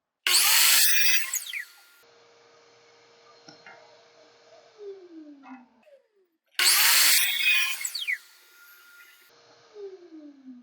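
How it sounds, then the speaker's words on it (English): A radial arm saw cuts poplar pen blanks in two loud, close passes, each a sharp, bright cutting burst followed by the blade whining down, separated by quiet stretches with faint handling noise. "So I'm going to use the radial arm saw, and I want to get it just as close to the line as I can."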